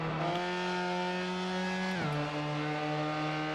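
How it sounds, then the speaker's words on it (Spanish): A race car engine in the PISTA Motorsport racing simulator on Linux drones in a steady harmonic whine, its pitch dipping once partway through as if two engines were layered. "Como si se escucharan dos motores diferentes."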